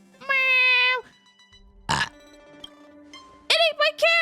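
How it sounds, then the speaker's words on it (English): A small creature in Honkai: Star Rail lets out a drawn, tonal burp-like grunt, followed by a short crackling burst and then a few bright, squeaky wobbling calls, close and loud with no talk. "Its burp smells like trash!"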